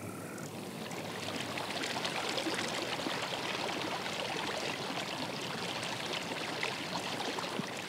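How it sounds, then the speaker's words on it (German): Babbling forest stream, a steady, moderately close wash of flowing and splashing water that runs unbroken throughout with no voices. "das Plätschern eines Baches oder das Zwitschern eines Vogels oder das Rascheln der Blätter"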